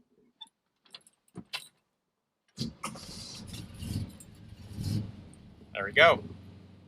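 An old Chevrolet Camaro engine cranks and catches after a few faint clicks and rustles, then settles into a loud, rumbling idle with a brief higher squeal near the end, with someone speaking briefly over it.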